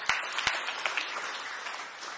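Congregation applause in a church during a sermon, a full, sustained wash of many hands clapping at moderate loudness, with a couple of sharp claps standing out near the start.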